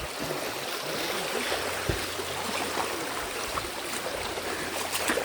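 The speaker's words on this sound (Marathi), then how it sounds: "फुल जंगलाच्या आतमध्ये आहे पाणी." A stream flows through dense jungle, giving a steady, close rush of running water with light splashes, unbroken and fairly loud from start to finish.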